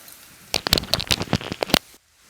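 Medium onions frying in a pan for aloo matar curry, a short burst of close sizzling crackles and pops that stops abruptly into near silence.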